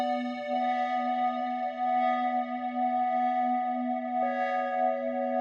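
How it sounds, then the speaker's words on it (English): Sustained synth pad built in Serum for techno and drenched in reverb, holding a steady chord with a shift partway through, loud and continuous with no voices. "all of a sudden it creates this really cool pad"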